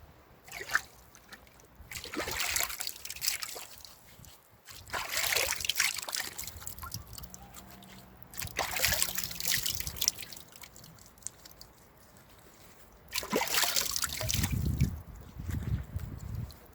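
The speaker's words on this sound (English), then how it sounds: "So let's wash the clay off and see." Natural clay being washed off by hand with trickling water comes in three or four separate bursts of dribbling, splashing water, close and soft, with quiet pauses between them.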